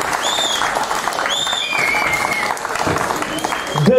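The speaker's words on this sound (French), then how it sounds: "Allez, un petit tonnerre d'applaudissements" An outdoor concert crowd on the Esplanade Lamartine in Mâcon breaks into loud, sustained applause, with several shrill whistles rising above the clapping and a brief voice near the end.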